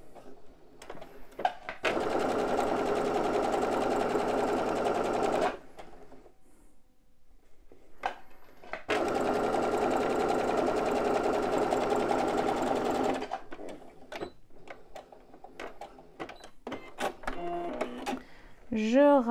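Sewing machine stitching star-printed linen for a fanny pack, two long steady runs of fast, even mechanical whirring separated by a pause, followed by short bursts and clicks as the fabric is adjusted; a voice speaks in between.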